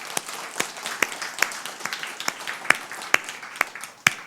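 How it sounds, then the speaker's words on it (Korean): Applause from a congregation at a church prayer meeting, a sustained patter of many hands with sharp individual claps standing out, moderately near and steady throughout, with no talk over it. "우리 하나님께 영광의 박수 올려드립니다."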